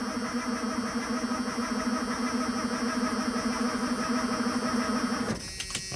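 A 1991 Ford F250 engine is cranked over by its starter without firing, a loud steady whirring grind at an even rhythm for about five seconds, then it cuts off abruptly.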